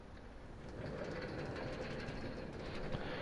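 Steady rumbling train running through a Minecraft world, a continuous low roar with faint rhythmic clatter that builds slightly and holds at a constant moderate level.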